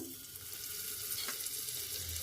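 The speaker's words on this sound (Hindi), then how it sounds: "तो अब मैं इसमें बटर डालूंगी। बटर में इतना डाल रही हूँ।" Butter melting in a hot pressure cooker for Mumbai street-style pav bhaji, giving off a soft, steady sizzle close by, with no talking.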